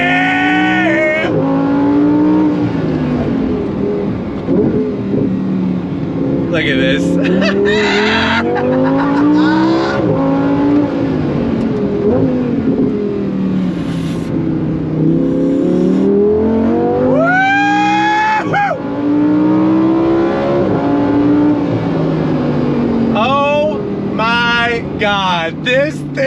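A 2024 Lamborghini Huracan Sterrato with a naturally aspirated 5.2 liter V10 is driven hard, its engine wailing up and down through repeated sweeps of revs with gear shifts, tire noise and sharp pops, while someone briefly speaks.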